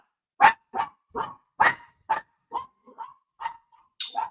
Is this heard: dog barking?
yes